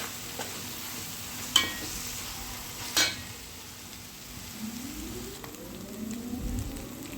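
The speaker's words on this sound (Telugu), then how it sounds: "ఉల్లిపాయ బాగా వేగుతుందన్నమాట" Onion fries in a pan for a fish curry, a continuous soft sizzle close by with a couple of sharp clinks of a spoon and stirring scrapes, no talk.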